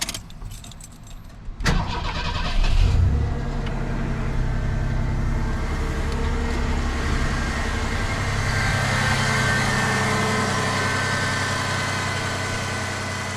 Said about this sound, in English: Now we can start up the engine and see how everything runs without that smog pump.